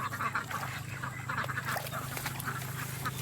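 A flock of domestic ducks on a Philippine duck farm quacking continuously and overlapping, loud and close, with a low background hum and no talk.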